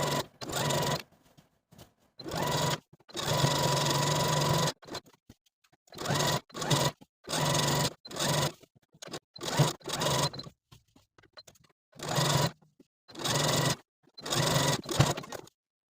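A sewing machine top-stitches a handmade cardigan in a series of short bursts separated by pauses for pivoting, each run a close, brisk whir of varying length.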